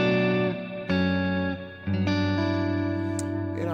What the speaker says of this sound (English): Turn the reverb off. So it's just a delay.